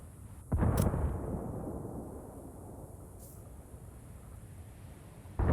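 A grenade goes off in Ghost Recon Wildlands Ghost War, one loud close blast that rumbles and slowly fades, with a second sharp burst starting near the end.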